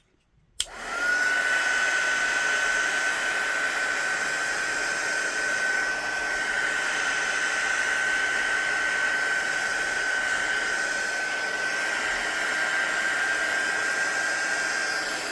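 A hair dryer switches on with a click and then blows steadily and loudly while drying paint on a hand-painted flower card, holding a constant whoosh with a thin whine running through it.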